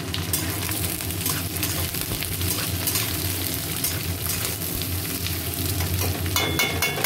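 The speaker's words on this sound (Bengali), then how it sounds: "এবারে দিচ্ছি আলুগুলো ভেজে নেবো ভালো করে।" Potatoes and onions frying in a pan give a dense, continuous crackling sizzle, loud and close throughout with no breaks.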